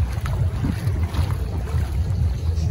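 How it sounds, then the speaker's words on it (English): A boat sits on the water as people board for a sail, with a continuous low rumble and wind buffeting the microphone throughout, plus faint splashes and bumps. "Get on the boat, Maya."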